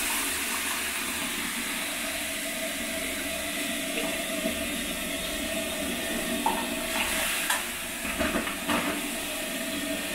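Steam hisses steadily off hot stones in a sauna stove after water is thrown on, a continuous broad rush with a few brief crackling spurts near the end; no voices.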